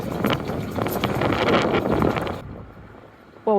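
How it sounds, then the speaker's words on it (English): Strong gusting wind buffets the microphone aboard a narrowboat on a river, a loud broadband roar that drops abruptly after a few seconds to a quieter rumble. "as you can tell, it's very, very windy"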